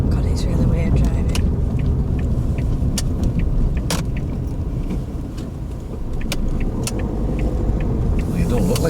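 A car drives along during a driving lesson, its steady engine and road rumble continuous and close throughout, with occasional small clicks and rattles inside the cabin.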